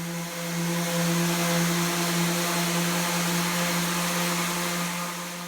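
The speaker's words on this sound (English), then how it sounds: "Then I use a random orbit sander to sand all the high spots." A random orbit sander runs continuously on a wooden panel, giving a loud, steady motor whine with a constant hum throughout and no talking.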